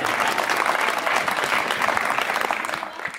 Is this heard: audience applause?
yes